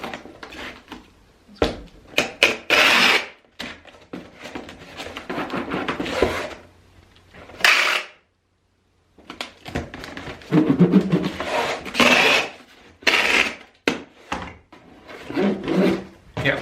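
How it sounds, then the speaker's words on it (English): A Scotch 3M industrial packing tape dispenser pulls and presses tape onto a small cardboard box, loud close screeches of unspooling tape in bursts separated by rubbing, tapping and a brief silence. "I've got a small box just to kind of show you how this tape dispenser works."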